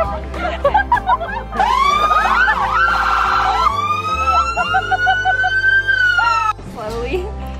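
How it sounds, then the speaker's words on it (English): Loud emergency sirens wail and whoop close by, their pitch sweeping up and down, with voices chattering underneath and a brief pause near the end. "the bride is going to set off the sirens"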